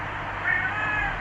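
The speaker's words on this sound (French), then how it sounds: "mon chat dit maman." A pet cat gives a single drawn-out meow whose shape resembles the French word "maman", moderately close and alone against a quiet room hum.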